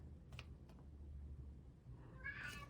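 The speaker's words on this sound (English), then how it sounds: "you hear Rigel over here protesting the word vet" A cat meows in protest indoors. Two faint, brief cries come early, then a longer, clearer meow near the end, all soft and somewhat distant over a low room hum.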